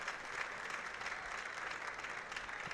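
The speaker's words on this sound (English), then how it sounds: "Round of applause for the Tiger as he is able to make his way off the field" Steady applause from spectators at a high school football game between Conroe and The Woodlands as an injured Conroe player is helped off the field, a dense even clatter of clapping at a moderate distance throughout.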